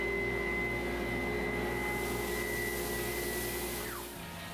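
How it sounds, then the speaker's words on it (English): An Avid CNC machine with a dust shoe and vacuum suction, driven back and forth, gives a loud steady vacuum roar with a whining tone that drops in pitch as the motor winds down near the end. "I drove the machine back and forth manually just to test out the suction"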